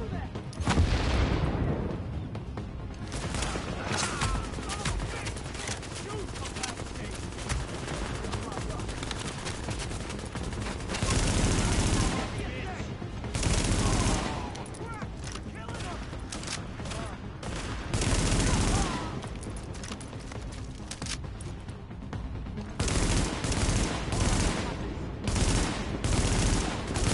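Sustained gunfire in The Division video game, heavy bursts of automatic fire and loud booming shots continuing throughout, with brief lulls between volleys.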